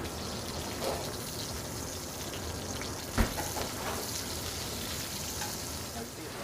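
Shellfish sizzle steadily in hot oil in a single pan, a continuous bright frying hiss with one sharp pop midway, fairly close and even in level.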